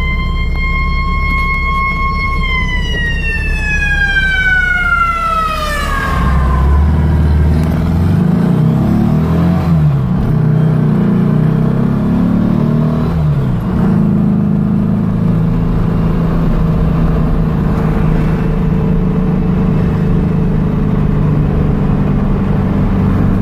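A 1970 Baja Bug with a 2276cc engine accelerates, its rising engine whine climbing then dropping sharply at a shift, followed by a loud, rumbling cruise with road and wind noise up close.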